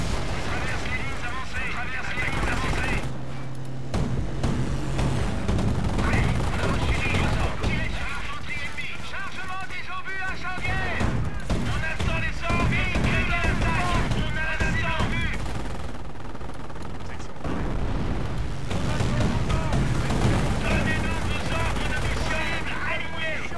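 Sustained machine-gun and rifle fire crackles through a Company of Heroes Opposing Fronts battle in the Market-Garden campaign, with bursts coming in waves, occasional heavier artillery thumps, and someone talking over the din.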